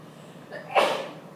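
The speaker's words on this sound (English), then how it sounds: "Bless you." A single short sneeze bursts out nearby against the quiet hum of a chemistry lecture room.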